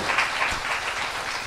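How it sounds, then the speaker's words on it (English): A festival audience applauds, a dense, steady wash of many hands clapping that stays even throughout the short stretch. "So one final round of applause,"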